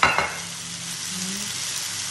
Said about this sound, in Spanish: Ahora vamos a revolver el pollo, que ya lo tenemos aquí.